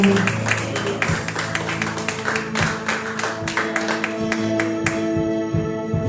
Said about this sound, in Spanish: Vamos a darle un aplauso grande a nuestro Señor esta mañana